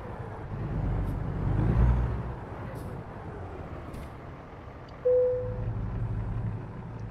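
A heavy truck in American Truck Simulator idles with a low rumbling engine while pulling into a parking spot, then a short sharp hiss of air brakes sounds near the end, with no talking.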